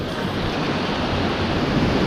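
A mountain river rushes along the Tour du Mont Blanc trail, a dense, steady roar of flowing water heard close and loud, unbroken for its whole length with no voices.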